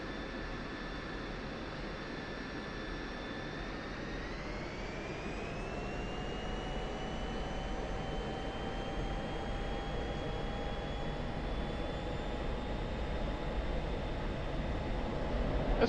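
An F-16C Viper jet engine spooling up for the takeoff roll in the DCS World flight game: a loud, continuous roar with whining tones that rise in pitch partway through and then hold high and steady.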